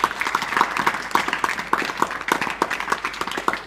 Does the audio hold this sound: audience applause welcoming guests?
yes